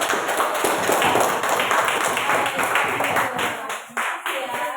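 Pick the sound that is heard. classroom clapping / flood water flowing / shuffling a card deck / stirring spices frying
classroom clapping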